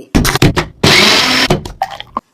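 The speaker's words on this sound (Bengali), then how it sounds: "আবার মিক্সারে দিচ্ছে এবার বয় বয় করে ঘুরাবে" A kitchen mixer grinder whirs in one loud, steady burst of under a second, with sharp clattering bursts before and after it.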